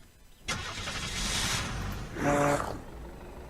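A stolen fire truck in the video game Unturned starts with a sharp crank at about half a second, then settles into a steady engine drone that swells in a brief rev before easing back, with no talking.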